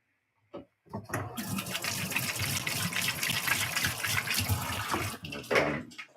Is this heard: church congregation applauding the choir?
no